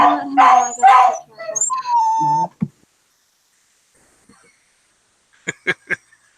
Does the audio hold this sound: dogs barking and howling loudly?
yes